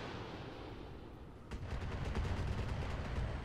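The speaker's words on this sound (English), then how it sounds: "Comes the missiles." Missiles launch in a video game, a sharp burst followed by a sustained, dense rumble of rapid fire and explosions, loud and continuous with no speech.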